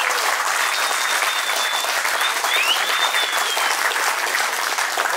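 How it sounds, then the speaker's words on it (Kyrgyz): An audience clapping at a community gathering, dense sustained applause from many hands, loud and even throughout with a faint high tone drifting above it. "байкелерибизге дагы ыраазычылык билдирип бир кол чаап койсоңор жакшы болот"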